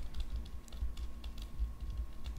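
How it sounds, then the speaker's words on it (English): Quiet, quick keystrokes tap out an irregular rhythm on a computer keyboard during a business travel booking, close and soft with no voices over them. "let me type this one"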